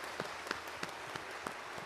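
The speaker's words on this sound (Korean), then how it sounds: "다시 한번 감사 박수 한번 합시다" A short burst of scattered hand claps at a church worship service, irregular and fairly close, sounding like a small group applauding.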